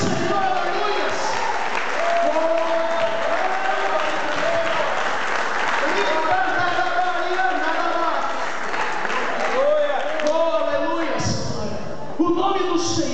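A Baptist church congregation claps continuously in praise at an anniversary service, a dense steady applause layered under music and singing voices throughout.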